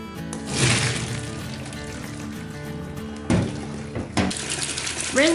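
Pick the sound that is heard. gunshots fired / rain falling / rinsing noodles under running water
rinsing noodles under running water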